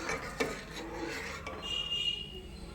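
A spoon scrapes and rasps around a pot of boiling black kavuni rice porridge in a steady stirring rhythm, with a few light metallic knocks against the pot.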